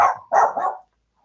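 A dog in a seminar audience barks twice in quick succession, a short bark and then a longer double bark, close and fairly loud, followed by silence.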